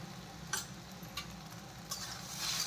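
Turmeric, chili powder and a sweet spice mix fry in a kadai with a banana vegetable curry. A faint, low sizzle runs under a few soft stirring clicks.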